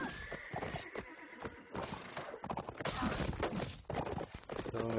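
Video game horses in a three-versus-three flag match whinny loudly over rapid clattering hoofbeats, with overlapping neighs and busy clip-clop filling the whole stretch up close.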